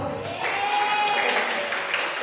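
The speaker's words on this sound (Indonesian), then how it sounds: "Boleh tepuk tangan buat kita semua" A classroom of students clapping hands together, a brief, fairly loud wash of mixed applause lasting a couple of seconds, with some voices mingled in.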